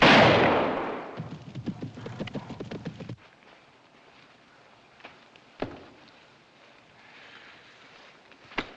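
A gunshot fired while hunting in a 1952 film, a loud blast at the start that decays with echoing reverberation, followed by quieter rustling and a few faint knocks.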